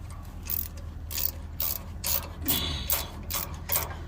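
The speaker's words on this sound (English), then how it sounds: "Right, socket set." A socket set ratchet clicks while loosening a locking nut, a series of close, crisp metallic ratcheting bursts in a steady back-and-forth rhythm over a low background hum.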